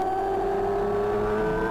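A racing motorcycle engine held on the gas during a CCS GTU race at Roebling Road, a sustained whining drone with a slowly rising tone, close and continuous.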